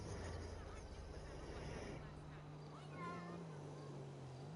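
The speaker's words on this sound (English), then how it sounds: "You guys hear that cat?" A cat meows a few times, faint and echoing, over a steady low hum and background chatter.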